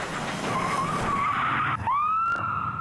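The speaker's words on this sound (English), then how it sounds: "suddenly he loses control again, sideswipes a tree, and comes to a stop." A car damaged from ramming a police car loses control with a long tire skid that slides and bends in pitch, then a brief scrape as it sideswipes a tree, all fairly close.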